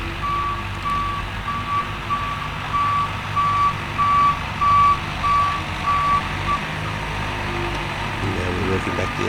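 A skid steer grader/loader with auto laser leveling turns and reverses, its regular reversing beeps repeating over a steady diesel engine drone, while a voice talks.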